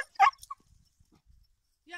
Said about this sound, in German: Mein Hund hat gerade einen Elektroschock bekommen.